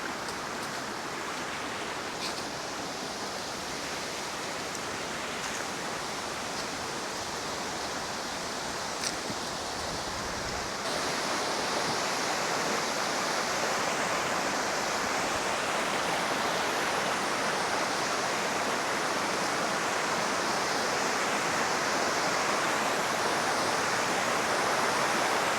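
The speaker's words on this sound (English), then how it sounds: "we see the waterfall." A waterfall at an old mill site in Iowa hisses as a constant broadband rush of falling water, growing louder and fuller partway through as it comes nearer, with no voices.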